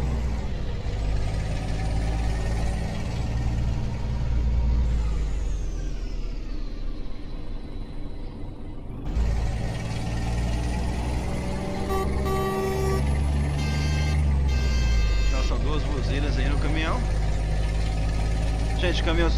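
Scania 112 H truck engine in a driving game, a loud steady diesel drone that rises and falls with acceleration and shifts, with a brief drop and several tonal shifts along the way while someone talks over it.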